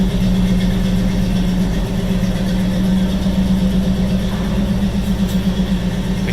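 A 1971 GMC 1500 Custom pickup's V8 idles steadily with a deep, rumbling exhaust burble, even and continuous throughout, close by.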